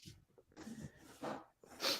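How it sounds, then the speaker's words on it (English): A person sneezes, a few small breathy sniffs building up before one sharp, loud sneeze bursts out at close range. "Oh no, sneeze attack."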